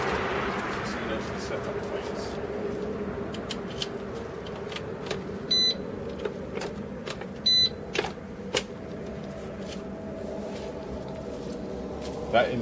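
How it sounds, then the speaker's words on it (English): A Datatool S3 alarm on a Triumph motorcycle gives a few short, sharp electronic beeps as the seat is opened, spaced apart over faint background hum. "You'll notice it will just beep."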